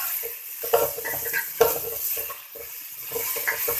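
Turnip sabzi with crushed red chillies sautéing in a pan, a soft frying sizzle broken by bursts of stirring and scraping of a spoon against metal, close by and with no voices.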